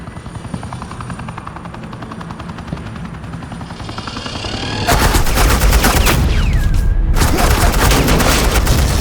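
In the Batman Telltale Series video game, a helicopter's rotor thrum builds and then erupts into sustained, loud suppressing machine-gun fire with rapid dense bursts close by, and a brief break in the middle.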